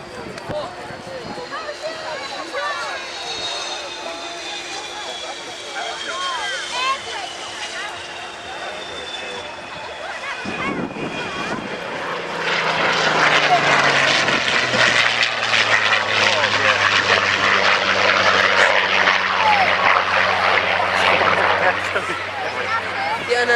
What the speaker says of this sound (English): Strike Master's lead. Hunter T7 follows using its braking parachute.